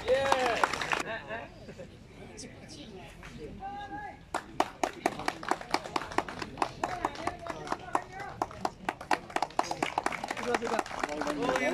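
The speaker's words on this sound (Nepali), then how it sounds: "जोरदार तालीले स्वागत गरौँ युवराज भुजेललाई" An audience at a golf prize ceremony for the Eastern Open claps for golfer Yubaraj Bhujel, a steady round of applause that builds after an announcer's voice and carries on for several seconds.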